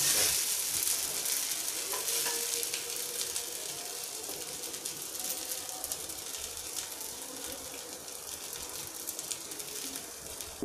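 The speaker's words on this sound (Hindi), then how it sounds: "इसको आराम से ऐसे हम पलटा के क्रिस्पी होने तक धीमी आंच पे 5 मिनट तक पकाएंगे।" Semolina snack fries slowly on a low flame until crisp, giving a continuous close, bright sizzle with soft scraping from occasional turning, steady throughout.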